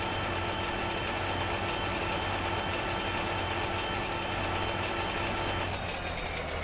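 A vehicle engine in The Long Drive strains to push a desert bus, giving a loud, steady droning rumble with no break and no talk.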